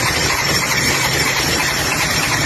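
Motorcycle with a seized, worn cylinder liner and piston, a harsh, steady droning mechanical whir with a faint squeal, loud and close, no voices.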